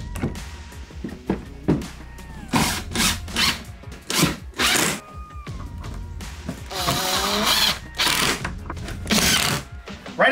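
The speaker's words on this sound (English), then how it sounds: "And you just install the screws from that point on," A power drill driving screws into a wooden indoor tortoise enclosure, heard as repeated short whirring bursts of varying pitch, fairly close and moderately loud, with pauses between runs.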